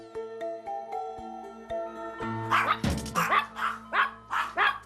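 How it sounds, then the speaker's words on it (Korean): A pet dog barks repeatedly at a visiting stranger inside a home, its sharp, fairly loud barks coming in a steady rhythm over a low indoor background hum. "이때 또 아지가 짖으면 보호자는 바로 방으로 직행"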